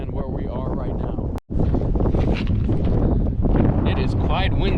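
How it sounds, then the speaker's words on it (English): Heavy wind on California's Central Coast buffets the microphone with loud, rumbling gusts throughout, broken by a brief dropout, as a person talks beneath the roar. "It is quite windy."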